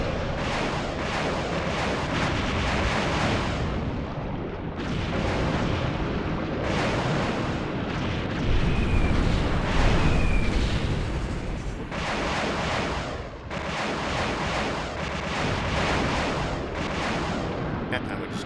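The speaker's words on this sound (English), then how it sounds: "a load of airstrikes" Airstrike explosions in a Paris sandbox war game arrive as a dense, continuous barrage of loud booms and rumbling blasts, swelling in waves with short lulls for nearly twenty seconds.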